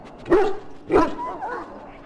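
A dog in the video game Dragon Age: Origins gives two close, sharp barks about half a second apart, followed by a softer whining yelp.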